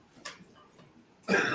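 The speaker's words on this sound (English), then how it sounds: "Maybe I could cut him out coughing." A single sharp cough bursts out near the end, loud and close, after a stretch of faint room noise and a small earlier throat sound.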